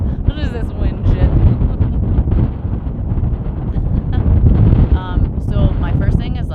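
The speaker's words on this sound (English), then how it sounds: "What is this wind shit?" Strong, steady wind buffets the microphone beside a high mountain lake at 11,000 feet on the Pacific Crest Trail, a loud continuous rumble with voices talking over it throughout.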